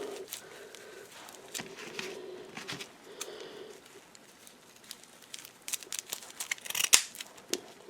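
Scissors snip stems and plastic ends while a sunflower floral garland is being made, giving a few soft, close cuts with rustling handling and a sharper crisp snip near the end.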